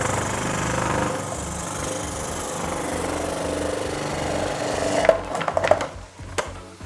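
A food processor grating vegetables for a vegan okonomiyaki: a steady motor whir runs for about five seconds, then cuts off into a few sharp clattering knocks and rattles.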